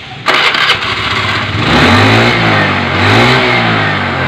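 A Honda Beat FI motorcycle engine starts abruptly after near silence, then idles and revs with a loud, uneven, sputtering rumble close by.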